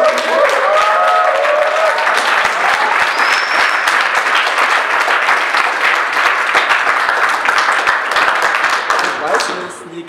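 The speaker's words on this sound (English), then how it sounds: "Again, some applause, guys." Applause at a weighted calisthenics competition in Zürich, a dense sustained crowd clapping that stays loud and even, with occasional cheers, then thins out at the very end.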